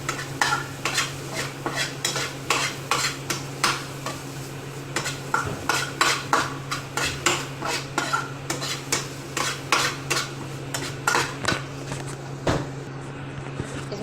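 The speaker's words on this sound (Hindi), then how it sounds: "थोड़ा इसको और भूनना है सारी चीज़ डालने के बाद।" A pan of spices with chili and salt for Shimla-style Maggi noodles being stirred and fried: steady rhythmic scraping and clinking of a utensil against the pan over a continuous low sizzle, close and fairly loud.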